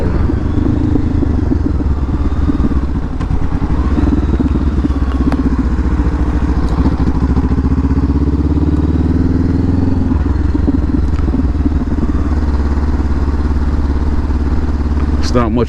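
A 2021 Honda CBR500R motorcycle engine rumbles loudly and continuously nearby, its pitch shifting as it revs, with voices talking over it at times.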